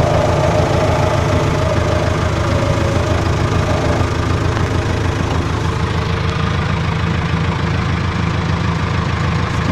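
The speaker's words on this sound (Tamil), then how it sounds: "ஸோ இப்போ பக்கெட் க்ளோஸ் பண்ணுறேன். ஸோ இது லோடர் ஆப்ரேஷன்." JCB backhoe loader diesel engine running steadily during loader bucket operation, a loud, constant low rumble with a knocking pulse and no pause throughout.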